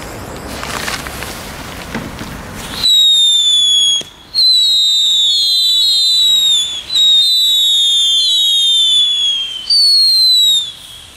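Loud crackling bursts at first, then a series of rising whistling German fireworks shriek one after another with short gaps, close and piercing, inside a smoky space.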